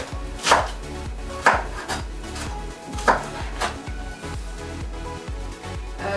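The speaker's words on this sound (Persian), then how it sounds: "ما تمام این ترکاری خود را خرد و ریزه میکنم." A knife rapidly chops vegetables for chicken spring rolls on a cutting board in a steady rhythm, close and clear, with occasional louder knocks.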